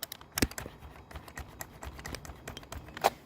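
Keys on a Macintosh Performa 550 keyboard are tapped on a locked-up, unresponsive computer, giving a string of soft, irregular plastic clicks, close and quiet, with one sharper press near the end.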